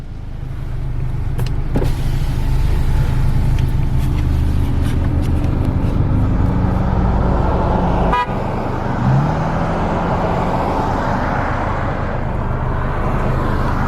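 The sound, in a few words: Volkswagen MK7 GTI car driving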